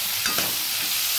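Vegetables for paneer chilli sautéing in a hot pan, a steady close sizzle and frying hiss with a light stirring scrape, no voices.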